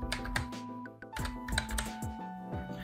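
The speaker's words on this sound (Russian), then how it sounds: "Пишем в строке поиска артикул бит." Rapid typing on a computer keyboard entering an item number into a search bar, a close, crisp run of key clicks with brief pauses, no talking.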